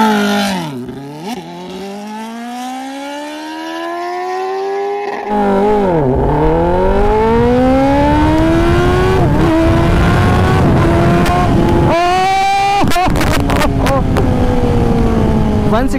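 A Kawasaki ZX10R sport motorcycle using launch control: the engine idles, then holds a rev-limited buzz before a hard launch, rising through the gears in repeated climbing wails with quick shifts, loud and close.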